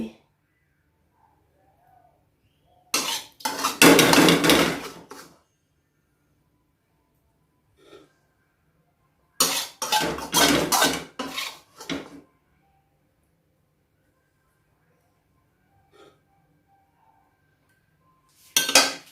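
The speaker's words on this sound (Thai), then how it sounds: "เดี๋ยวขอตักข้าวใส่จานแป๊บนึงเนาะ" Rice is scooped onto a plate beside a sweet pork and garlic pork dish, producing two long bursts of scraping, clinking dishes and utensils, close up, separated by quiet pauses, with a short clink at the end.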